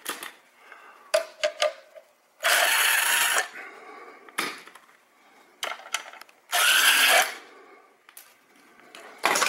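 A power tool whirs in short, loud bursts spinning small bolts off a cover on a 1.8T VW Mk4 Golf, with clicks and handling noise between the spins.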